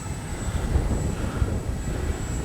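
Freewing 80mm EDF F-22 radio-controlled jet flying on high rates in strong wind, a steady ducted-fan whine and rushing roar with gusty wind noise, fairly distant and continuous.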